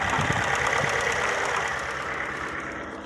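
An old Fiat Seicento engine with one cylinder not sparking runs at idle, a steady close mechanical clatter and hum that fades slightly toward the end.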